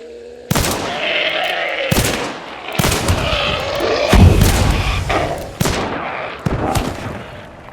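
Guns fire in the game Hunt Showdown, several loud heavy shots spaced irregularly with booming low-end tails, close and punchy, with no talk.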